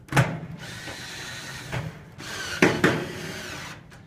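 Power drill driving a screw into a dryer during repair, a few short bursts of whirring with brief pauses between them, close up and alone with no talk.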